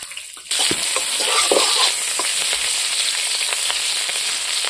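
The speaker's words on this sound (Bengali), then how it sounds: "এখন কড়াইতে তেল দিয়ে দেব দিয়ে দেব কাঁচা লঙ্কা" Hot oil bursts into loud, steady sizzling as green chilies are added to a wok after a brief quiet start, with sporadic pops and crackles continuing throughout.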